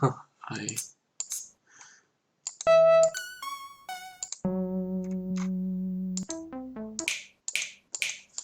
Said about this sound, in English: Some finger snaps.